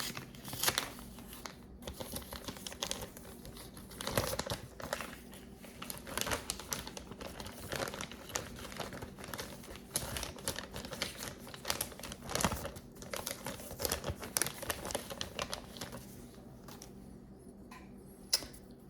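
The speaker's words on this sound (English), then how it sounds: "Now we take the PCIe adapter from the plastic" A PCIe adapter is pulled from a plastic bag, producing faint, close crinkling and rustling with scattered sharp crackles throughout, and no talking.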